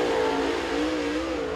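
A super late model race car circles Crossville Speedway during qualifying, its engine a steady, sustained drone with a slowly shifting pitch, heard alone at moderate distance.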